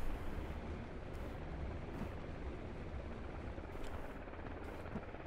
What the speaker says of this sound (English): Also, we landed a chopper.